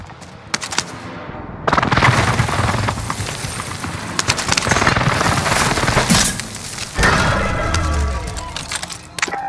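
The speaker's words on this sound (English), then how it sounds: "Allied precision airstrike incoming." Airstrike explosions and rapid gunfire in Call of Duty Warzone on Fortune's Keep, loud dense bursts of automatic fire and heavy booms rolling continuously and close.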